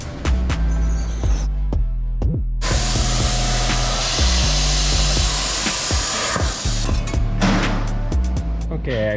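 Metal studs being cut off during an LS3 V8 engine swap into a Mercedes: a steady, harsh power-tool grind runs for several seconds in the middle, set between sharp clanks and knocks, with a voice in the background.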